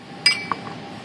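A metal burner tube for a propane and waste-oil hybrid foundry slides into a spin-vane fitting, making a sharp metallic clink followed by a softer second tap in a quiet room.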